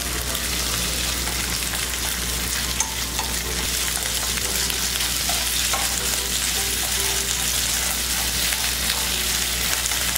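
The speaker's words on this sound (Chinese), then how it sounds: "牛肉下来。快速拨散拨开，现在全程都用大火。" Beef strips tossed and spread in a wok over high heat for black pepper beef, a dense, constant loud sizzle with scattered scraping and clinks of the spatula, no voices.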